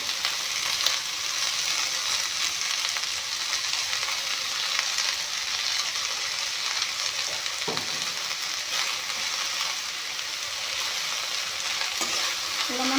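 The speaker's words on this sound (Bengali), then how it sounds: "শাকখিনি ভাজি ল'ম মেচকা টেঙাখিনি ভাজি ল'ম" Greens and roselle leaves fry in a pan with a steady, close, bright sizzle, broken by a few stirring scrapes, and no one speaks.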